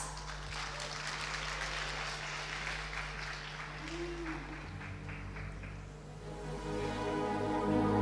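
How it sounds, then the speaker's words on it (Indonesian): Audience applause at a school farewell ceremony for twelfth-grade students, a steady wash of clapping held at an even level for the whole stretch, with music or tones entering near the end. "mari kita sambut dengan tepuk tangan yang meriah"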